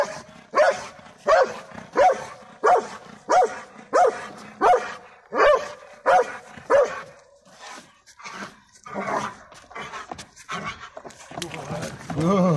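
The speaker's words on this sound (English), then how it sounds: "I hear Fuego bark" Rottweiler barking in a steady series of loud, evenly spaced barks close by, then rougher vocal sounds, during a table-work training session; a handler speaks around the barks.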